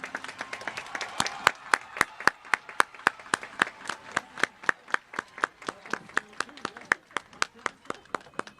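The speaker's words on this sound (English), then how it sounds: "Let's give them a round of applause for a job well done." Graduation ceremony audience at a high school honoring the top graduates, with loud, sharp, near claps in a fairly regular rhythm over scattered background clapping for several seconds.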